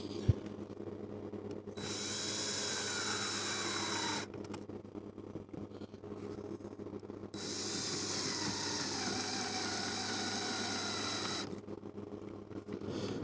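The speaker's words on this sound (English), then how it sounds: "is this angle screwdriver from DeWalt" A cordless angle screwdriver whirs in two sustained bursts of several seconds each during a Starlink hardware install, with a steady hum in the background and brief pauses between runs.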